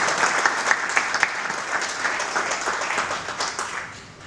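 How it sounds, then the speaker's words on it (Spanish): Audience applause at an evening gathering, a dense, steady patter of many hands clapping that holds for several seconds and fades toward the end, with no talking over it. "quiero que la aplaudamos ahora por esa participación"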